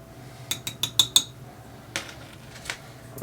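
Highlight powder being mixed for soft plastic fishing baits: a quick run of four or five sharp metallic clinks like a utensil tapping a container, then a few softer scattered taps, close and quiet.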